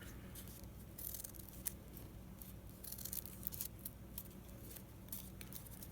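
Scissors snipping through folded paper to cut a stencil, a quiet, close series of irregular crisp snips and rustles over a low steady background hum.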